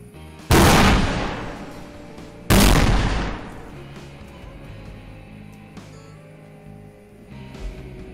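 Fireworks exploding outside a house, two loud sharp bangs a couple of seconds apart, each trailing off into a rumbling decay, with quieter background noise after.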